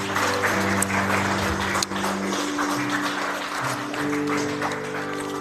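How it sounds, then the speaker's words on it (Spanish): A church congregation at a Sunday service applauding, with sustained clapping heard over music and organ-like tones, fairly loud and continuous throughout. "Dale un fuerte aplauso al Señor."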